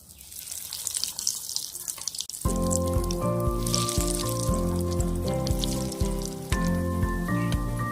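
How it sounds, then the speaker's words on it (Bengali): Egg-coated potato chops fry in hot oil in a wok with a close, crackling sizzle for a couple of seconds, then a loud melodic music track starts and largely covers the frying. "চপ ভাজার জন্য কড়াইয়ে তেল নিয়ে নিয়েছি, একে একে চপগুলো ভেজে নেব।"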